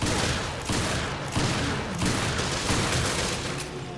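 Gunfire from the Resident Evil Revelations video game in Raid Mode, a dense and continuous loud barrage of rapid shots and booms that fills the whole clip. No voices are heard.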